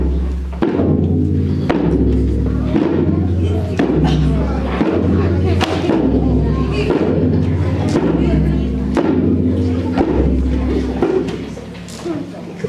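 Grandfather's theme from Peter and the Wolf: a low, grumbling bass line in even, plodding notes with brighter accompanying chords, heavy and steady throughout, played alone with no voices over it.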